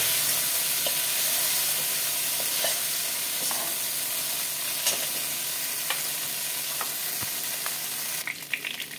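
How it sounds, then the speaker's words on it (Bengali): Potatoes fry in a little oil in a wok, a steady close sizzle broken by scattered scraping clicks from stirring, with a brief shift in tone near the end. "এই কড়াতে অল্প তেল দিয়ে আমি আলুটা ভেজে নেব"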